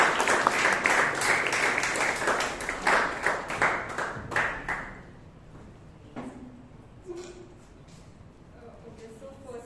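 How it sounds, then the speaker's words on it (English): An audience at a Toastmasters club meeting in Bangalore breaks into a burst of clapping that lasts several seconds, then thins out to scattered claps and quiet room noise. "Please a huge round of applause."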